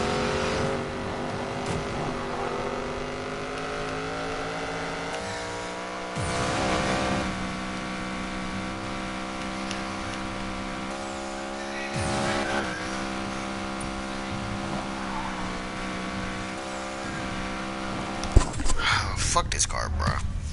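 A Rodera car drives in Need for Speed Payback, its steady engine drone shifting pitch as it revs and accelerates, with brief tire squeals near the end and faint talking beneath.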